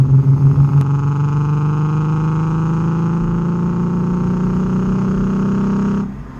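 A Nissan 350Z/Infiniti G35 V6 with Manzo cat-delete test pipes pulls at full throttle in fourth gear, a loud, close, steady droning exhaust note rising gradually before cutting off abruptly near the end.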